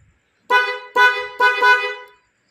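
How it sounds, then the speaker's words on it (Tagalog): A two-tone dual horn on a Suzuki Raider 150 motorcycle honks three times in quick succession, loud and close, with the last blast held slightly longer. "Dual horn yan"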